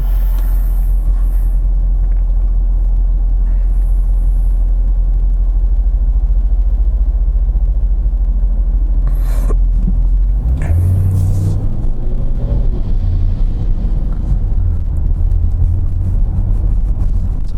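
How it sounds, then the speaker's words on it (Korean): A 550-horsepower Jaguar F-PACE SUV cruises through city streets in comfort mode, giving a low, steady engine and road rumble with a few faint higher noises partway through. "컴포트 모드로 이제 도심의 주행을 좀 다녀보도록 할게요."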